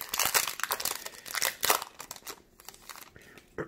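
A Magic: The Gathering booster pack wrapper is torn and crinkled open up close, in a quick run of sharp plastic crackles and crunches that trail off into quieter rustling.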